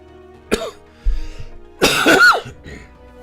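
A man streaming Mechwarrior Online lets out a short cough, then a longer strained, raspy cough with throat clearing, close and fairly loud against quiet surroundings.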